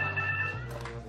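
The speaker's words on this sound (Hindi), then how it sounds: "एक तो ये कब वक्त फोन बजता है" A telephone rings in a home setting: a steady electronic ring tone for about half a second, then it cuts off and a fainter tone follows, with no speech.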